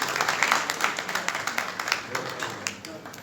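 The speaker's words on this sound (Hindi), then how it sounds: "एक जोरदार ताली जो है इस परिवार के लिए" Crowd applause at a Ram Katha religious gathering at a temple in Bilaspur, a steady wash of many hands clapping at moderate volume, with no voices over it.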